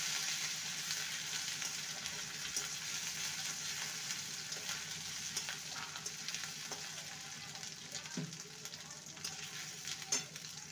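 Ginger and green chili paste sautéing in a pan for a vegetarian potato and parwal curry, a steady close sizzle with occasional stirring scrapes and clicks, no talking.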